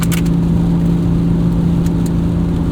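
A 1998 BMW E36 M3 sedan engine at full throttle, heard from inside the cabin as a loud, steady, droning roar that holds an even pitch for the whole stretch, with no talking over it.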